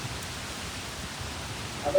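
Typhoon rain and wind in Japan wash in a steady dense hiss, loud and close and unbroken for the whole stretch, with no talk.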